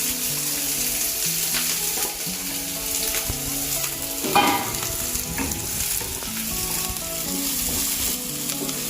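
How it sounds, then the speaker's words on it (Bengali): Chopped green chili and onion fry in hot white oil, a steady loud sizzle throughout with stirring scrapes and a brief louder burst of crackling midway. "তেলটা গরম হয়ে গেছে, এর মধ্যে লঙ্কা কুচি আর পেঁয়াজ কুচিটা দিয়ে দিলাম।"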